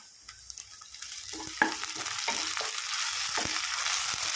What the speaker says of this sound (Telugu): అల్లం వెల్లిగడ్డ పచ్చివాసన పోయే వరకు కలుపుకోవాలి